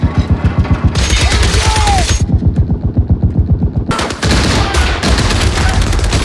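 World War II small arms firing in a movie battle scene: loud, close, rapid automatic bursts with rhythmic repeated shots, briefly pausing, then resuming.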